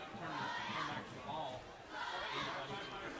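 A high school football crowd cheers and yells in the stands at night in two swelling waves, distant and fairly faint, with a commentator speaking over the noise.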